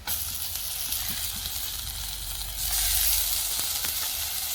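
Onion and a ground spice paste sizzle in hot oil, a steady broadband hiss that swells louder partway through, with no voices present.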